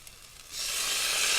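A sudden sizzle as meat hits a hot wok of fried rice, a bright hiss that swells and holds.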